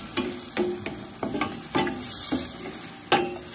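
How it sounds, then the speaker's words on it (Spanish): Pork for Peruvian tacacho sizzles in a pan over the fire, with steady frying hiss broken by several scraping stirs at close range. "Miren, nuestro chanchito está que hierve."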